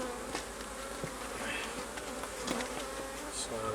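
Swarming honeybees drone steadily around an opened hive as a super is added, a dense continuous buzz close to the microphone with individual bees passing near.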